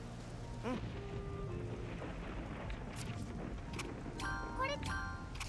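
Steady thunderstorm rain hisses in Atelier Firis, a soft continuous wash with faint low rumbles, joined by brief chiming game tones near the end.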